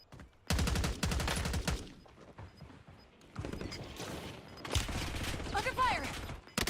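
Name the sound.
gunfire from Call of Duty Warzone video game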